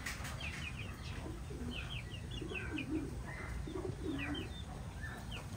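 Pigeons about eight to nine months old coo steadily on a pigeon farm with an earthen floor, several overlapping soft calls repeating throughout, with faint wing flutters and chirps in the background.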